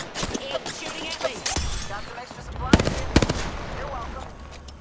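Rapid gunfire from the battle royale game Apex Legends, with bursts of automatic shots and several sharp, loud cracks over continuous game noise.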